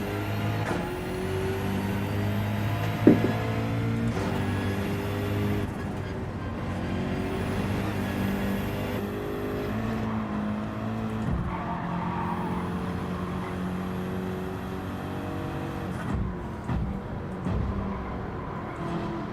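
Race car engine in Gran Turismo 7 during a practice lap at Trial Mountain on fresh tires, a steady loud drone with rising gear pulls and shifts throughout, alone without talk.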